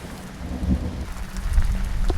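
Rain and rumbling thunder as ambient sound design in an old video game project, a dense steady patter with low booming swells, no voices.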